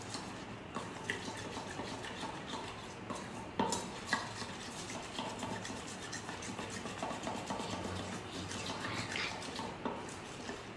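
Spoon stirring melted chocolate mixed with sunflower oil in a bowl, a soft continuous scraping and clinking with a few sharper taps, faint and close against a low background hum.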